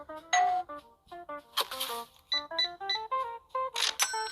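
Cash register in the Supermarket Manager Simulator mobile game rings up products at checkout: a rapid run of bright electronic beeps and tones, several short chimes in sequence with two louder rattling bursts, clear and alone.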